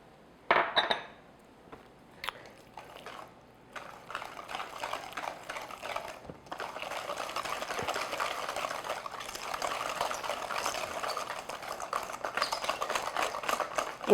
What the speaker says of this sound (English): So whisk that in, and then the second one.